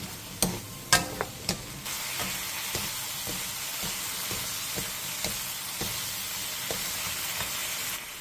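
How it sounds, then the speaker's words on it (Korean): Pork and eggplant stir-frying on high heat with a little added water, a steady loud sizzle and hiss. Several sharp utensil clanks come early, then lighter regular scraping taps as the food is tossed. No one speaks. "물 4분의 1 컵을 넣고 센 불에서 볶아주세요"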